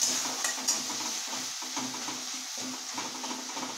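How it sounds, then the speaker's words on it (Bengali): Onion and garlic sizzle in a pan while a spatula stirs them in regular scraping strokes, the rhythmic scrapes repeating over a continuous frying hiss close by. "রসুনটা একটু ভাজা হতে পেঁয়াজটা দিয়ে দিলাম"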